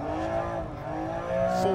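Rally car engine revving hard on a stage in Poland in Dirt Rally 2.0, a loud tonal engine whine that shifts in pitch as the car accelerates, close and continuous with a brief tire noise near the end.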